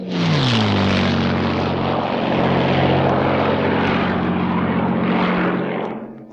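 An American propeller-driven fighter of the Korean War era roars past close and loud, its engine drone sliding down in pitch as it passes, with broad rushing noise throughout.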